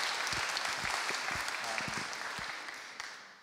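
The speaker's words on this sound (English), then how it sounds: "Let's applaud for that." An audience at a food film festival screening claps steadily, a dense patter of hands that gradually fades out.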